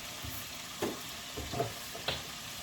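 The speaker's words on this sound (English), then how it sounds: "she's over there frying, making some chicken nuggets" Faint continuous sizzle of oil frying homemade chicken nuggets, with a few soft clinks and stirring knocks scattered over the hiss.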